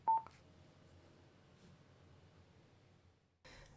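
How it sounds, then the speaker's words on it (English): A Cardo FREECOM 2 motorcycle intercom gives a short, clear electronic beep at the start, followed by faint background hiss and a soft rustle near the end. "Press the plus button for 2 seconds or until you hear the second beep."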